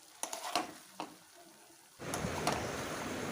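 Raw chicken pieces tipped into spice paste frying in a pan for a traditional grandma-style chicken curry, a few soft clatters followed by a sudden, steady loud sizzle that carries on to the end.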